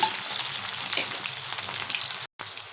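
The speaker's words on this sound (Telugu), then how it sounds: "మూడు ఆనియన్స్ తీసుకున్నాను ఆనియన్స్ ఎన్ని వేసుకుంటే అంత బాగుంటుందన్నమాట ఇలా బాగా ఫ్రై చేసుకోవాలి" Chopped onions fry in a pan for a Rayalaseema-style uggani, giving a steady close sizzle and crackle that runs continuously with a brief break near the end.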